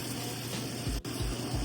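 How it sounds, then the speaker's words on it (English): Water pours steadily into a gumbo pot, a close, continuous gushing splash heard with no talk. "I'm adding 2 more cups of water."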